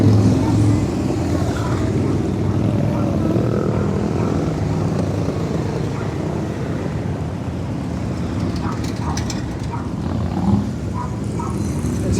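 Harley-Davidson motorcycles coasting downhill past onlookers at a 2024 rally in Baildon, giving a steady, low, continuous rumble of engines and rolling traffic that stays at an even, fairly loud level throughout.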